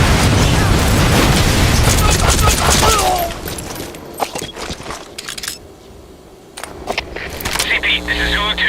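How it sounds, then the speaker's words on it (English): A loud, dense explosion and gunfire barrage in Metal Gear Solid V fills the first three seconds, then fades into quieter scattered clatter and rumble. "Heard an explosion."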